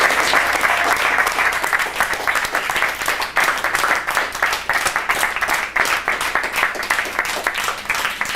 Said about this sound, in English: I want to thank you again, and you may applaud.